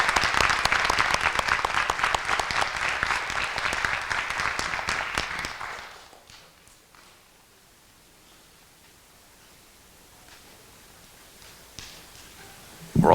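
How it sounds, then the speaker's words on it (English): Applause at a public board of education meeting, a loud, dense round of clapping for about six seconds that stops abruptly, leaving quiet room tone with faint rustling. "One more round of applause, please, for everyone."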